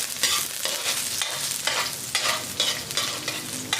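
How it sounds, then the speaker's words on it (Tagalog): Garlic and white onion sautéing in hot oil, a steady bright sizzle with spattering oil and periodic surges as the pan is stirred, close and continuous with no voices. "Tumatalsik-talsik yung aking mantika."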